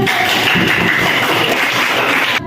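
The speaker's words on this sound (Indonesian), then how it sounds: "Tinggal tepuk tangan." Classroom applause in an Indonesian school lesson, a dense steady wash of clapping filling the room and holding loud and even before cutting off abruptly near the end.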